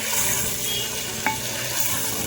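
Potatoes stirred and frying together with meat (goat) in a village-style aloo gosht pot, a steady broadband sizzle with faint stirring scrapes and one brief clink, close and continuous with no talk.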